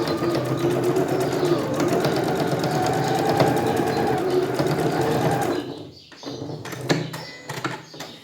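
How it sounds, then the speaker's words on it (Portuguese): A sewing machine runs steadily for about five and a half seconds, stitching a short small seam on a fabric glasses case with a half-foot width, then stops, followed by a few faint clicks and handling noises. "Essa costurinha nós vamos fazer com meio pé de máquina"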